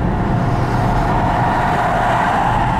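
An old, run-down car rolls along at a steady pace, and its loud, even engine drone and road roar fill the cabin without a break or any voices.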